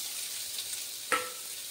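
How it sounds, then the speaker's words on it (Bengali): Chopped onion fries in hot oil seasoned with cumin seeds, a soft steady sizzle with one brief stirring clink partway through. "পেঁয়াজটা আমি কিছুক্ষণ ভেজে নেব"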